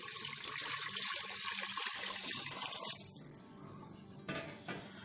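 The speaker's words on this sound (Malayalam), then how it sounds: "ഇതിലേക്ക് വെള്ളം ചേർത്ത് കൊടുക്കാം." Water poured into a pot of rice for Malabar chakkara choru, a rushing stream for about three seconds that thins into scattered splashes and drips.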